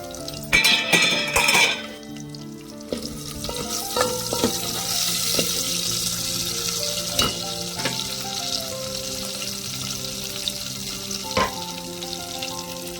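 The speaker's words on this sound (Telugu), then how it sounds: "పప్పు తాలింపు చేస్తున్నానండి. నూనె వేసాను ఆల్రెడీ." Garlic sizzles loudly in hot oil in a pan as a dal tempering is made, with a steady crackle, a burst of stirring early on, and scattered clinks of a utensil against the pan.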